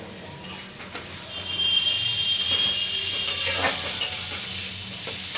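Fried rice with vegetables, beans and spring onion being stirred in a hot pan, a steady bright sizzle with scraping spatula strokes and occasional clinks, close and loud, no talking.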